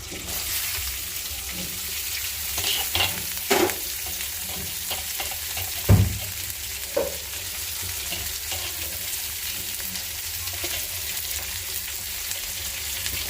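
Onion and green chilies sizzle steadily in hot oil for a garlic mash, with a continuous crackling fry and a few louder clinks and stirs of a utensil in the pan.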